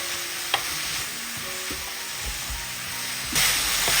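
Grated vegetables sizzle steadily in a hot frying pan while a utensil stirs and scrapes through them, with a few sharp clinks and the frying growing louder near the end.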